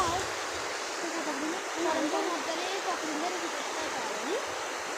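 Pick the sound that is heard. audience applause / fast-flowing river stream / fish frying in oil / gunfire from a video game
fast-flowing river stream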